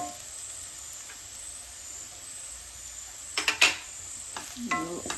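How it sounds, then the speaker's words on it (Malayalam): Crushed onion fries quietly in a pan for an elephant foot yam leaf stir-fry, a faint steady sizzle with a few brief stirring scrapes and clatters near the end. "ഉള്ളി മൂക്കണ വരെ ഇളക്കിക്കൊണ്ടിരിക്കും."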